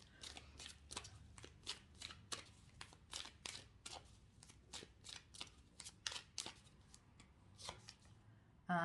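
Moonology Oracle cards shuffled close by, a quick irregular series of crisp riffling flicks and soft taps, fairly quiet.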